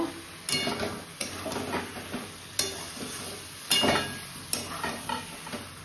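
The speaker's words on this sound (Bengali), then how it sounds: "এবার ইঁচড়টাকে দিয়ে দেব দিয়ে একটু কষিয়ে নেব" Young jackfruit added to a pan of hot oil and spices and stirred, sizzling steadily with repeated sharp scrapes and clinks of a spoon against the pot, close and fairly loud, with no talking.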